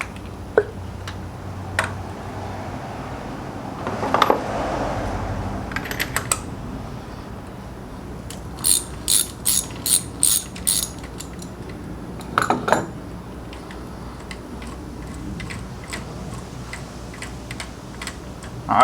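A ratchet clicks in short bursts of rapid ticks, interspersed with metallic taps and clinks while the ignition coil packs are removed from a Jeep Renegade 1.3T engine; otherwise quiet.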